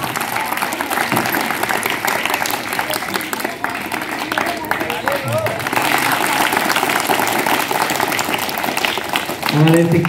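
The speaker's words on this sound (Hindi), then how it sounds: "जोरदार तालियों से आपका सबसे अभिनंदन," An audience at a sweater distribution event applauds steadily, a broad wash of clapping that runs throughout and swells near the end, with a speaker's voice over it.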